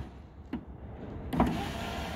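The electric front power window of a Jaguar XF Mk1 X250 runs after a regulator replacement, a steady motor whir with a couple of faint clicks, the hum growing fuller partway through and continuing to the end.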